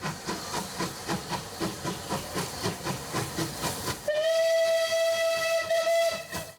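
Rhythmic chuffing of a restored Canadian Pacific steam locomotive, then a long, loud steam whistle blast with hissing steam, close by.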